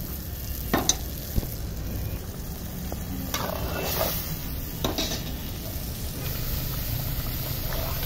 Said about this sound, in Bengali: মশলাটা ভালো করে ভাজছি